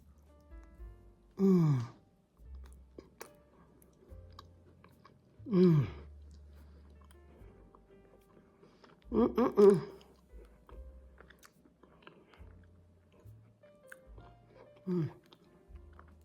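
Bites of a British scone with clotted cream and strawberry jam, chewed close to the mic in four separate bursts a few seconds apart, with quiet pauses between and no talk.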